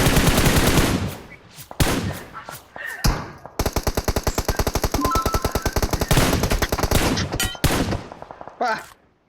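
Rapid automatic gunfire from a shooting video game, long loud bursts of evenly spaced shots with short gaps and single louder reports, close and dominant, with a voice speaking briefly at the start.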